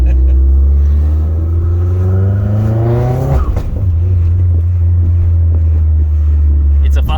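An Opel Astra H 2.0 turbo OPC Nürburgring Edition revs hard and climbs through the gears, with one quick shift midway before it pulls strongly again, loud and close with wind noise.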